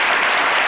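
Loud, dense applause from a live audience, a steady wash of many hands clapping at once that fills the short moment without pause.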